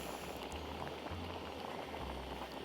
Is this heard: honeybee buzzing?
no